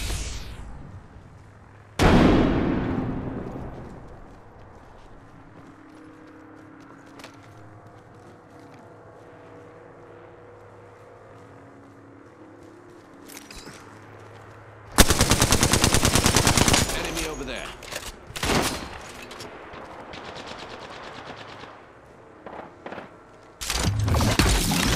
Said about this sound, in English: Firing a smart bullet.